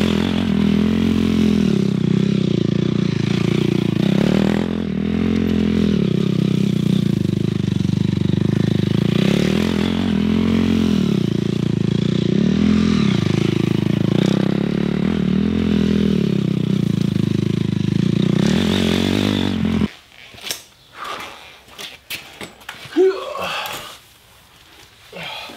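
A motocross motorcycle rides laps on a freshly tilled, broken-up dirt track, its engine droning loud and steady with repeated rises and falls in revs for about twenty seconds. Then it cuts to scattered, clattering noises.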